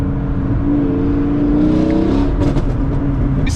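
A car's exhaust burbles as the engine revs, a deep rumbling roar that swells and then settles over a few seconds, loud and close, with no talking.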